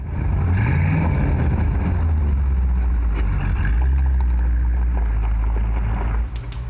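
A deep, rumbling first-generation Ford Thunderbird V8 engine idles and revs steadily, its low throb swelling and easing as the throttle is blipped.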